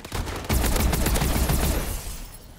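Rapid gunfire in a first-person shooter video game, a dense burst of loud overlapping shots lasting a couple of seconds before tapering off.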